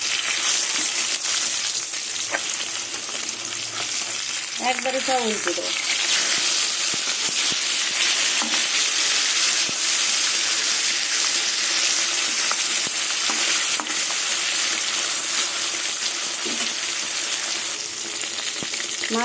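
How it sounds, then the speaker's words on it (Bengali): Silver carp pieces fry in hot mustard oil with a loud, steady, close sizzle and hiss that lasts throughout. A voice speaks briefly over it. "এবার আমি মাছগুলো তেলে ভেজে নেব"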